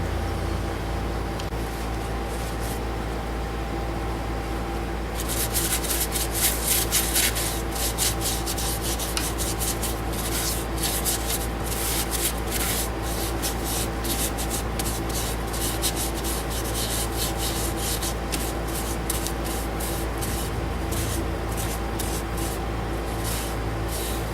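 Continuous scratchy rubbing of a cloth or pad applying sanding sealer to a hickory bowl, steady and close, with brisk back-and-forth friction strokes and no talking.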